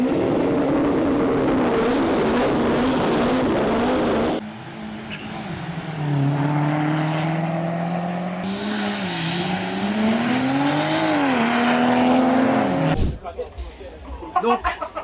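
Modified Volkswagen Golf 2 TDI running on gas revs hard, its engine pitch sweeping up and dropping in loud close bursts, with an abrupt cut near the end into rattling noise.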